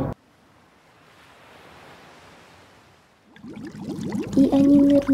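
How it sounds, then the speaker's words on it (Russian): Big ocean waves, a broad soft rushing surf that swells and fades, then a louder churning crash of water near the end. "Какие волны большие."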